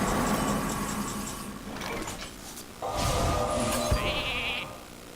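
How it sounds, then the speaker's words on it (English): A sheep bleats in the Hearthstone card game amid game sound effects, a short bleat followed by shimmering magical whooshes and a thud. "I've got a sheep target now."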